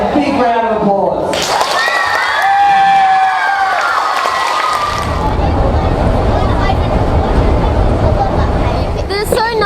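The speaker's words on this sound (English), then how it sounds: "And a big round of applause." A community crowd cheers and shouts while applause swells into a dense, continuous clatter of clapping that carries on loudly to the end.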